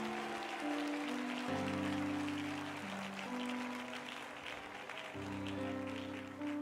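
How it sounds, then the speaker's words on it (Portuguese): A church congregation applauds. The soft, continuous patter of clapping sits under sustained organ or keyboard chords, fairly distant and muted. "Pode aplaudir o Senhor Jesus."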